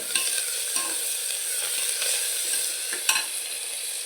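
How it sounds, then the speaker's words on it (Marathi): Onion and tomato sizzle as they sauté in a pan, with occasional scraping and clinking of a spoon stirring; no voices. "टोमॅटो कांदा छान असा परतला आहे."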